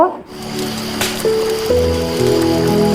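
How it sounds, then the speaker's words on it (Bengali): Chopped onion, chili and garlic sizzle in hot oil in a pan, a crackling, hissing fry that starts with a clatter and settles into a steady sizzle with low humming tones beneath. "এখন এর মধ্যে দিয়ে দেব পেঁয়াজ কুচি, মরিচ কুচি, রসুন কুচি। কিছুক্ষণ ভেজে নেব।"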